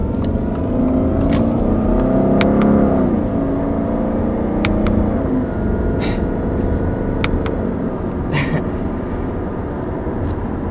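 A 2020 Subaru Outback XT turbo accelerating in paddle-shifted manual mode, a loud steady engine drone from inside the cabin that rises in pitch, dips at a shift, then climbs again, with no talking.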